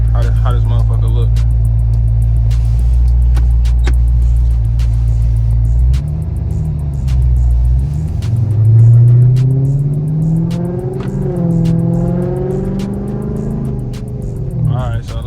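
Chrysler 300C Hellcat driving, a loud, steady low engine rumble that swells as it accelerates around the midpoint, with a voice talking over the engine through much of it.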